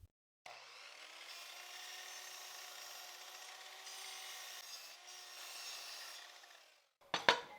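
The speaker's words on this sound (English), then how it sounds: "In the miter saw, I'll cut this piece to exactly 52 centimeters in length." A miter saw cuts through a piece of old reclaimed wood, about 25 mm thick, in one steady, fairly loud rasping pass that lasts several seconds. A brief clatter follows as the blade finishes the cut.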